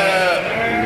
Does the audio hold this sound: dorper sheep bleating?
yes